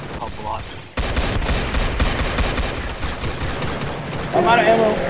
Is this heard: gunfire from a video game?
yes